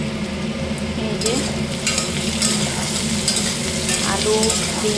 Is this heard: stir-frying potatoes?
yes